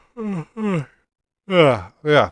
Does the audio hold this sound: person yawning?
yes